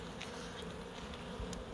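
Honeybees swarm at an open hive during a beekeeping season in Corsica, producing a faint, steady, unbroken buzzing hum with no talk over it.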